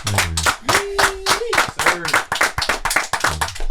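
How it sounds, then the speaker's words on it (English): A small group in a studio claps for a country singer in uneven bursts, mixed with voices cheering and talking close by. "Give him a round of applause."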